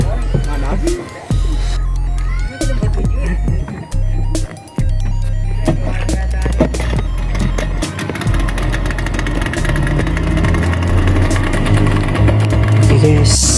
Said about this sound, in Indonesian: Oke guys, mesin sudah bunyi